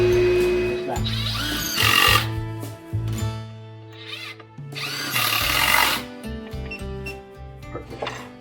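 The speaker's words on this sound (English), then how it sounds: "Trying to drill somewhere here." Power drill boring into wood framing under a staircase, with bursts of whirring and grinding rising and falling across several seconds, close and loud, broken by short pauses and clattering tool sounds.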